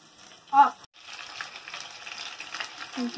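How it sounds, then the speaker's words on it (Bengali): Soft, steady sizzling of food frying in a pan, with a brief louder clink or stir near the start. "আলু ভাজা বসিয়ে দিয়েছি।"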